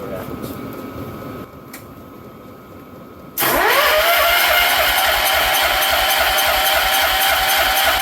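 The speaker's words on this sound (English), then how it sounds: "So now let's try to crank it over." Wheel Horse garden tractor engine with a swapped-in motor cranks briefly, then catches and settles into a steady, loud, close idle with a rising whine.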